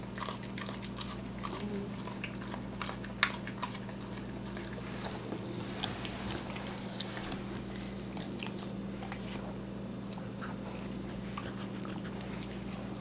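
A Rottweiler chews raw green goat tripe steadily, with wet gnawing and squelching sounds close by, over a constant low hum and faint background noise.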